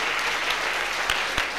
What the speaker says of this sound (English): You have given Jesus a few hand claps.